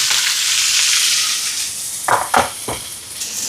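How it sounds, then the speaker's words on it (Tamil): Mustard seeds hitting hot oil in a pan during Sri Lankan cooking for a charitable meal, giving a steady loud sizzle with a few sharp popping bursts near the end. "இப்போ எண்ணெய் சூடாயிட்டு கடுகு சேர்க்குறேன்"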